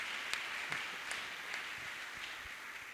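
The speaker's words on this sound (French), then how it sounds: "On peut acclamer pour le Seigneur." A church congregation claps and applauds for the Lord, a soft, steady wash of many hands with a few sharper claps standing out, heard from some distance.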